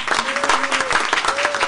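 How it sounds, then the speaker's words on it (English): An audience applauds a team's players at a City of Millville commission meeting, a dense, steady burst of clapping that fills the whole moment, with a voice faintly carrying over it. "give another round of applause for my players"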